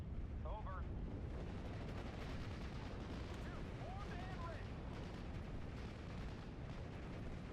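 Bombing run explosions in the Steel Division wartime strategy game, a constant heavy rumble of distant blasts and artillery-like booms rolling together into a thick roar, with a voice faintly underneath.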